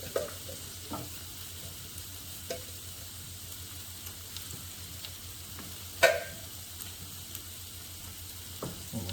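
Pineapple chunks sizzle softly in a pan with cooked rice, a quiet steady frying hiss broken by occasional stirring clicks and scrapes.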